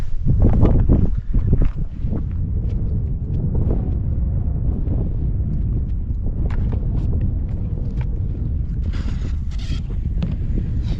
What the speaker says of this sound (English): of course, it got windy.